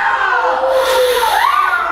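A wrestling arena crowd roars and cheers loudly and steadily for about two seconds, with a shrill rising whistle or cry cutting through the noise.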